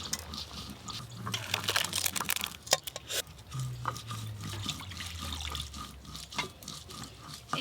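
Water poured in a home kitchen while cooking dal, a faint splashing and trickling with scattered clinks of utensils over several seconds.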